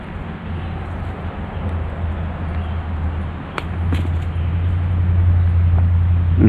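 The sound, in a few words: road traffic near a park trail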